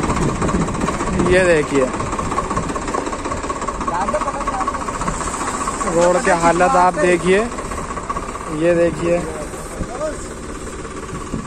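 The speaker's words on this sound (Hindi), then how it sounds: "ये देखिए गाड़ी जो है ट्रैक्टर से खींचना पड़ रहा है यहाँ पे।" A tractor engine tows a stuck vehicle along a badly damaged rural road, giving a steady, rumbling, knocking drone. Someone talks over it throughout.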